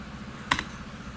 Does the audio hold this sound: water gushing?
no